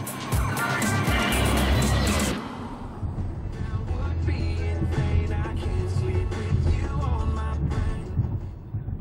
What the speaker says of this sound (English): the BMW 7 Series drives very well too